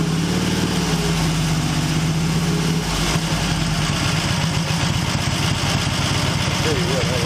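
Excelsior Henderson Super X motorcycle engine held at high RPM, a steady loud drone with a firm, even pulse that holds throughout and slightly rises in pitch near the end.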